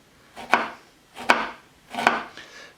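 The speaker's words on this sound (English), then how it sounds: "while that's boiling, we're just going to slice our jalapenos." Kitchen knife slicing jalapeno peppers on a cutting board, three crisp evenly spaced chops and a fainter fourth, close and clear with no talking.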